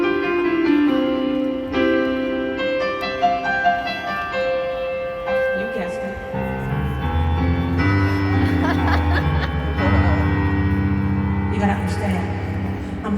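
A simple level 2 piano piece from a green and white John Thompson beginner book, played as sustained notes and chords, with the melody moving steadily and a lower accompaniment joining partway through, alone without talking.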